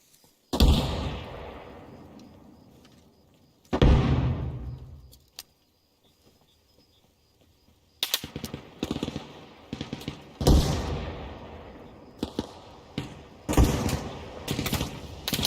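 Gunfire in the military simulation game Arma Reforger, a series of sharp loud reports and bursts spaced through the scene, with quiet gaps between volleys and denser shots later on.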